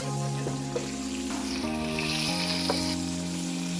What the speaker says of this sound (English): we added our onions, and then we're gonna cook it until it kind of brown